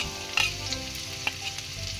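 Chopped garlic, ginger and green chilli fry in a little oil with two dried red chillies, giving a close, lively sizzle with a few crisp crackles and a spoon scrape.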